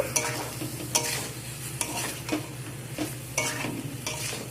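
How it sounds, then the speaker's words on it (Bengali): Spiced boiled potato and jackfruit being stir-fried in a pan for a jackfruit-prawn curry, with a steady low sizzle under repeated scraping strokes of a spoon every second or so, close and fairly quiet. "দিয়ে সব কিছুকে একসাথে কষিয়ে নেব।"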